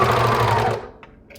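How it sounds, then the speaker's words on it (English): A serger sewing machine runs briefly at speed while serging off the hem of a wide-strap cami, a steady dense whir that cuts out after under a second, followed by a couple of faint clicks. "I'm just going to move everything out of the presser foot and serge off."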